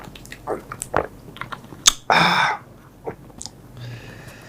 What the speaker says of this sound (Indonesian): Mari seruput.